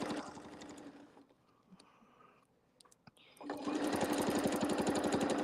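Sewing machine stitching fabric for quilting, a fast, even run of needle strokes that slows and stops for a pause with small clicks and handling, then resumes at full speed, close up.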